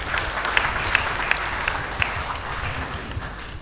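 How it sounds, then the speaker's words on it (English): A church congregation applauds during a sermon, a dense, steady wash of many hands clapping at moderate volume with a few sharper claps standing out, and no talk over it. "Give me and Solomon a round of applause."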